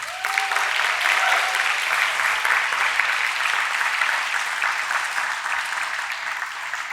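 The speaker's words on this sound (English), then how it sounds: "So please give her another round of applause." Steady applause from a crowd at an awards ceremony, loud and sustained throughout, with no one speaking over it.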